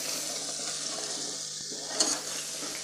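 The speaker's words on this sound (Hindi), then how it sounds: "चम्मच की मदद से हिला लेंगे" Spiced potato curry in a pan, frying with a steady bright hiss and sizzle, with a spoon giving one faint scrape and a small clink partway through.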